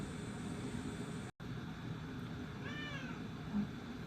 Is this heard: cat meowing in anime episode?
yes